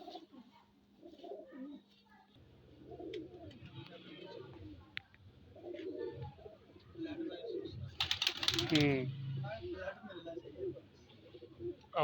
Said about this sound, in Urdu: یہ وہ پکڑا تھا کبوتر